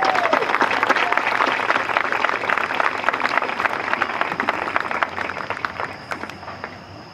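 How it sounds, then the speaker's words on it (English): Audience at a girls' high school soccer senior night applauds steadily, a dense wash of clapping from a crowd that tapers off toward the end. "Let's give these two young ladies another big round of applause, please."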